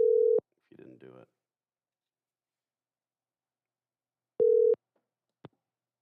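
Telephone tones ring out on a call line after the other party hangs up: a steady beep, a short garbled burst of sound, then another steady beep and a brief click, with silence between.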